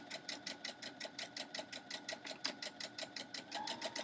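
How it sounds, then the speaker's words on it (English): Sewing machine stitching star quilt blocks, a fast, even rhythmic chatter of needle strokes running continuously at moderate loudness, nearby, with no voices. "you can be sewing along at the same time"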